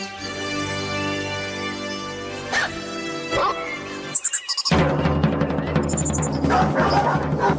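Dogs bark and whimper in a premium dog food advert, with short yips and bow-wows over music, then a brief silence and a louder, busier stretch of barking.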